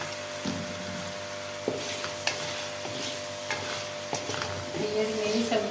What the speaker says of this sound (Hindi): आलू को भूनते हुए 4 से 5 मिनट हो चुके हैं